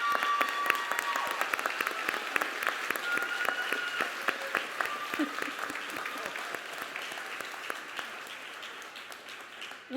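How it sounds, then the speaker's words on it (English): An audience at a police department awards ceremony gives a sustained round of applause, dense clapping that is strong at first and gradually thins out over about ten seconds. "So let's give them a round of applause."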